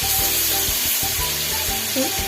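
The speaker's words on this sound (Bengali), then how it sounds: "মাছটা একটু উল্টিয়ে দিচ্ছি আলতো হাতে উল্টে দেন যেন মাছটা ভেঙে না যায়" Koi fish sizzles in a hot pan while being gently flipped, with steady frying crackle and a few soft scraping, clinking turns of a spatula cutting in.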